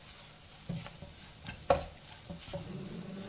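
Chilli powder and curry masala powder are stirred into a sizzling pan for cauliflower fried rice, with a few distinct spatula scrapes and knocks over a soft, quiet background sizzle.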